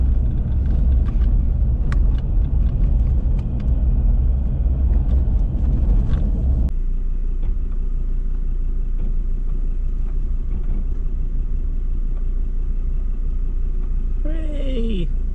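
A Ford Ranger with a canopy camper drives off-road onto a dirt track, its engine and tyre rumble loud and steady throughout, easing to a lower, smoother drone about halfway through.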